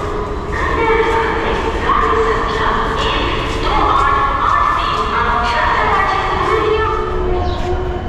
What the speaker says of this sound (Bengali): ফাইনালি আমাদের ট্রেন চলে এসেছে।